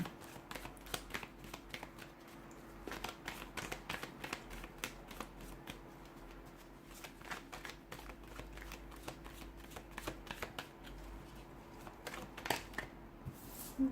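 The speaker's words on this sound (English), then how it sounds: "let's go ahead and give the cards a shuffle" Tarot cards being shuffled: a steady run of crisp, rapid riffling and flicking sounds, close and fairly quiet, repeating throughout with no talking.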